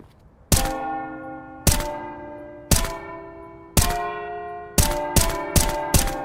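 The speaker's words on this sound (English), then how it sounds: "We've got bells that make noises." Bells in the Counter-Strike 2 game map are struck one at a time, each giving a resonant metallic clang that rings and decays. Four evenly spaced strikes are followed by a quicker run of four.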